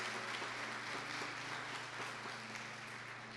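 Church congregation at Paróquia Espírito Santo applauding a woman brought forward, a steady wash of clapping with a low steady hum beneath, at moderate level throughout and without pause.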